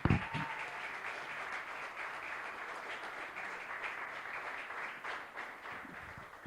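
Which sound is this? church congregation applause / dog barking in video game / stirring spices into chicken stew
church congregation applause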